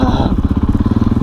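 Motorcycle fitted with new MX tires riding on an icy road during a New York blizzard, its engine loud and close with a fast, even chugging pulse throughout.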